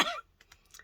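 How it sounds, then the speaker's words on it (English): A single close, fairly loud cough from a person with a lingering cough, followed by faint rustling and near silence. "I can't shake this cough"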